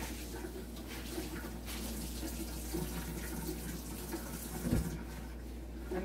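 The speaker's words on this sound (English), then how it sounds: "So I'm just wetting the towel" Tap water runs steadily into a kitchen sink to wet a towel while making Jamaican festival dumplings, a continuous close splashing stream with a brief louder splash near the end.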